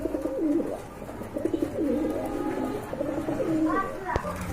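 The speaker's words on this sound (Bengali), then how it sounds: "কবুতরগুলি খুবই অ্যাক্টিভ" Pigeons coo in repeated low throaty bursts close by, with someone talking over them throughout.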